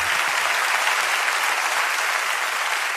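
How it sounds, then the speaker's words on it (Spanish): A concert crowd at a live show claps steadily and loudly, a dense wash of applause that holds at the same level throughout. "Fuerte el aplauso."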